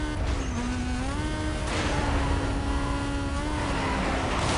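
A race car in Need for Speed Most Wanted (2005) on the long Hastings route roars steadily at high revs. The engine tone dips and climbs with gear changes, continuous and close, with no talk.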